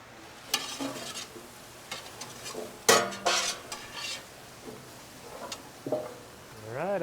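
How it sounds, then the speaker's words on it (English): Vegetables sweating in a big pot are stirred with a large paddle at a Thanksgiving cookout, giving scattered scraping and clattering strokes over a soft sizzle, with a brief voice near the end. "We'll give it a stir."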